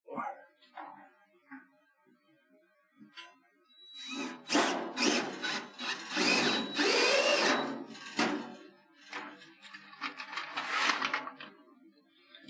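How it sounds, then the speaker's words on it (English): A power drill whirs in several bursts, loud and close, with short gaps and clatter between runs. "now I'm going to drill a whole bunch of other holes"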